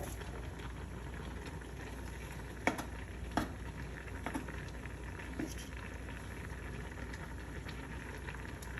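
Penne pasta boiling in a pot, a steady bubbling hiss with occasional soft pops and clinks, heard faintly and alone.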